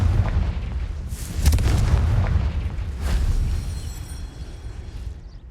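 Loud Confringo fire-spell explosions in the game Hogwarts Legacy, a series of heavy booming blasts over rumbling battle noise, with two strong bursts near the start and middle fading toward the end.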